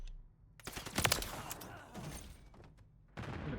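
Gunfire from a BP 50 rifle in a shooting video game: a loud cluster of sharp shots early on, a quieter rumbling stretch, then another burst near the end.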